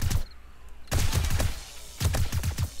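Bursts of gunfire in a shootout in the zombie survival game 7 Days to Die, with rapid volleys of shots at the start, again around one second and near the end, loud and close.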